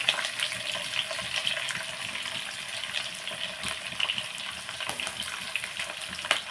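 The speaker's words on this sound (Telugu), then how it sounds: "మనం ఇప్పుడు చికెన్ ఫ్రై చేసుకుంటున్నాం" Chicken frying in hot oil with green chillies and onions, a steady, close sizzle and crackle running throughout with a few scraping stirs and no speech.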